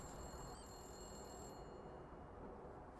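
A telephone rings in the video game Blacksad: Under the Skin, a high trilling bell that sounds for about the first half and then stops, faint over a steady low background rumble.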